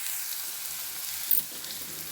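Bottle gourd pieces frying gently in a pan for a tomato curry give off a soft, steady sizzle with a faint clink near the middle, heard up close and alone with no voices.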